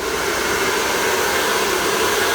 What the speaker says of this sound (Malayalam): ഡ്രയർ ഹീറ്റിലിട്ടതിന് ശേഷം